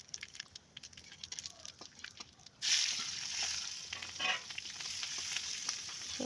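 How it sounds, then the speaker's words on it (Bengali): Shrimp frying in oil in a pan (kadai) for a home-cooked lunch, with a quieter sizzle at first that jumps to a loud, steady sizzle and crackle partway through, continuing with bursts of spatter. "চিংড়ি মাছ ভাজা হচ্ছে"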